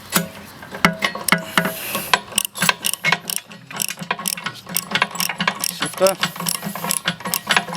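A hand ratchet tightens nylock nuts onto bolts while fitting support legs, giving rapid dense clicking bursts close up, with brief speech at one point.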